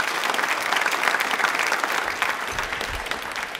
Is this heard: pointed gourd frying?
no